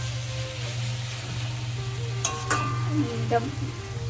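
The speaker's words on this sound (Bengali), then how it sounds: "কষাচ্ছি সবজিটা মাছের" Vegetables for a fish dish sautéing in a pan: a steady sizzle runs throughout with low kitchen hum underneath, broken by a few light clinks and stirring scrapes.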